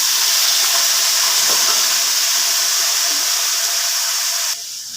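Tomatoes dropped into hot oil in a pan for a tomato pickle, giving a steady loud sizzling hiss that holds for several seconds and then drops off sharply near the end.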